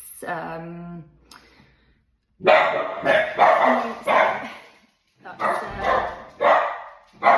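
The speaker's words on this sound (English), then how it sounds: "the dogs have decided to go mental" Several dogs bark loudly in repeated bursts indoors, close by, with short yips between volleys and a brief stretch of quieter background.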